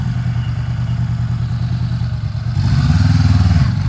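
A Honda 500 X motorcycle engine idles with a close, pulsing low rumble, then revs up louder about two-thirds of the way through, holding a deeper, stronger throb to the end.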